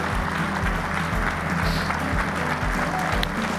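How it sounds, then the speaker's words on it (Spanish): Studio audience at a televised quiz show applauding firefighters, volunteer bomberos honored on stage; steady dense clapping sustained throughout under low music or background hum. "allá aplauden los muchachos."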